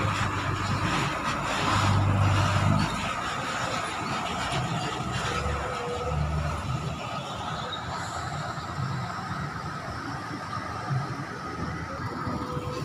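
A Patas express bus bound for Jember pulls out of Surabaya's bus terminal, its low engine rumble and rolling noise steady and moderately distant amid busy terminal ambience.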